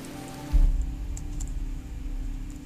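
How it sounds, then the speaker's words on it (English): Jungle-style ambient sound effects in the puzzle game Antichamber, a continuous gentle patter like rain on a surface over a low hum, with a short low swell early on and a few faint high chirps. "just the sound effects feels like... I don't know, like you're really in some sort of jungle or rainforest"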